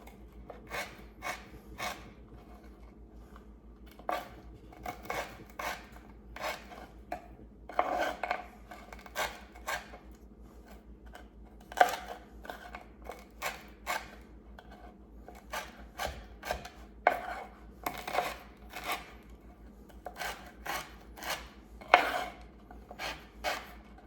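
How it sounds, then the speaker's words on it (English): A knife chops vegetables on a cutting board for a chicken and shrimp rice frittata mixture, with quick bursts of crisp, close taps at an uneven pace over a low background hum. "I'm just dicing them up a little bit."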